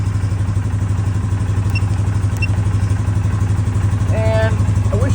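A Polaris Sportsman 570 ATV engine idling steadily, a loud close low rhythmic putter that stays constant throughout, with a faint brief beep-like tone near the end.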